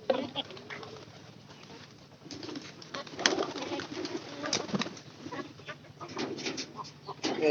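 Pigeons coo in low, throaty bursts that rise and fall across the stretch, with rustling and handling noise around them. The birds are kept and fed at home.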